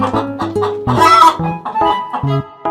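A farm chicken clucks in a quick series of short, loud, close calls, with one longer, higher squawk in the middle.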